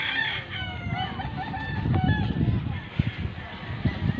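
Free-range chickens on rural farmland, with a rooster crowing several times over clucking and honking fowl, close and fairly loud throughout.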